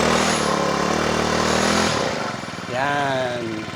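A grass cutter's small gasoline engine runs steadily right after a pull start, a loud continuous drone that shifts pitch midway as the choke is pushed back.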